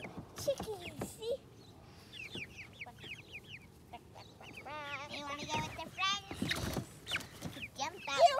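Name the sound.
chicken clucking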